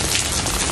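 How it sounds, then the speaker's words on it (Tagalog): Steady rain falling, a dense, even hiss of drops hitting surfaces, close and fairly loud with no other sounds. "Umuulan ngayon."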